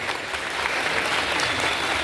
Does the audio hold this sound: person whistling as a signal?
no